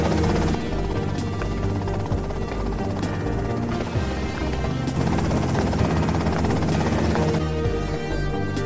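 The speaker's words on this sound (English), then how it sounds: "that's them in the chopper" Helicopter in the Grand Theft Auto: Vice City video game: a loud, steady rotor drone runs unbroken through the whole stretch, thick with other game sounds and no talking.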